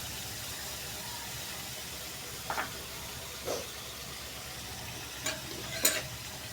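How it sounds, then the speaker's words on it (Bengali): Onion, garlic, cumin and chili paste frying in a pan to make a cauliflower dish, a quiet continuous sizzle with a handful of brief stirring scrapes close by and no voices. "এটা সুন্দর করে ফ্রাই করবে এখন"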